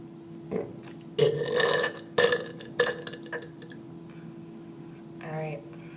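Several loud, drawn-out burps from a person in a burping contest, three strong bursts close together and a softer one near the end, with low hum and faint noises between.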